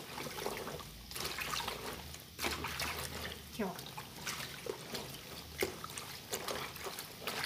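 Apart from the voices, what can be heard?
dirty water poured out while hand-washing clothes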